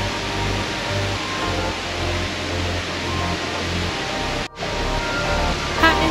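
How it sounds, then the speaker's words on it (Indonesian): The 40-metre HSBC Rain Vortex indoor waterfall roars as a steady, dense wash of falling water, loud and unbroken apart from one brief dip near the end. "HSBC Rain Vortex merupakan air terjun dalam ruangan yang memiliki tinggi 40 meter."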